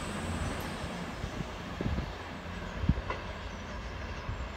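A train thundering out of Lancaster station on the West Coast Main Line, a steady broad rumble heard from nearby with faint clicks and knocks of wheels over rail joints.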